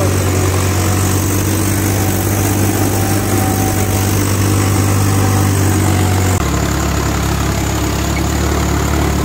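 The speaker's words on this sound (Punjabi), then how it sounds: "ਟਰੈਕਟਰ ਕਿਵੇਂ ਚੱਲਦਾ" A Swaraj 855 FE tractor engine idles close by with a deep, continuous rumble, its pitch shifting slightly partway through; no one speaks.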